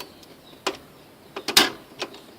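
Plastic cover of a Canon G2000 inkjet printer being closed, a few light plastic clicks and knocks followed by one sharper snap, close and brief against a quiet room.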